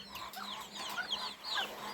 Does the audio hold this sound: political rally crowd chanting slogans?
no